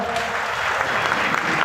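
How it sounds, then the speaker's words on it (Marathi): Listeners at a kirtan clap together in a short, close burst of many hands, a dense patter lasting under two seconds. "सगळ्यांनी टाळी वाजली मला फार बरं वाटतं"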